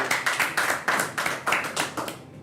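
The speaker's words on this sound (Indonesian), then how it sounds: "Kita beri tepuk tangan juga buat Mas Dedi." A small audience claps for a jiu-jitsu athlete in a rhythmic pattern of distinct, close-up hand claps, about three per second. The clapping stops abruptly at the end.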